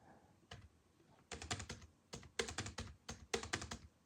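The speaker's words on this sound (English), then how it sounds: "Now let's just type something in the search bar." Typing on a Palm portable keyboard linked through a CH582F-based Bluetooth adapter, with quick bursts of close, crisp key clicks in short clusters separated by brief pauses.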